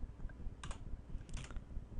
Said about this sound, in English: type the equal sign and then to use the arrow keys on your keyboard